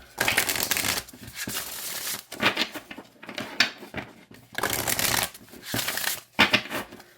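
Oracle cards being shuffled by hand in repeated bursts of papery riffling and flicking, close up, separated by brief pauses.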